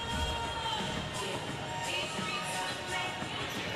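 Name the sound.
crowd cheering at NSL squash final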